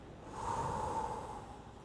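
A single slow, deep exhale of breath, close and soft, swelling and then tapering off over about two seconds in a quiet room.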